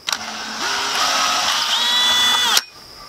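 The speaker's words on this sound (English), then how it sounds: "Someone gave you too small of a drill bit." A power drill runs steadily for about two and a half seconds, boring a hole during a whole-house radiator fan project with an undersized bit, its whine rising in pitch midway before it stops abruptly, close and loud with no talk.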